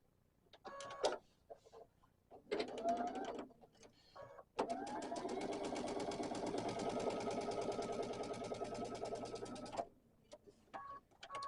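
A home sewing machine stitches a seam across paired quilt block squares, with short bursts of stitching followed by one long continuous run, and a few quiet handling noises between bursts.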